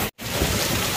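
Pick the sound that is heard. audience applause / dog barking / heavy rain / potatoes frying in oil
heavy rain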